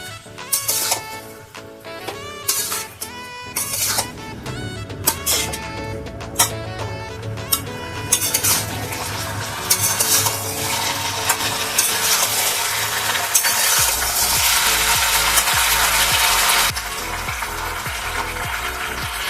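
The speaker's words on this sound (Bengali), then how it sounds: "আদা বাটা, ভালো করে নেড়ে নেব।" Ginger paste is stirred in a pan while cooking Bengali shukto, with rapid clattering spatula scrapes and clicks giving way to a loud, steady sizzling hiss that fills the later part.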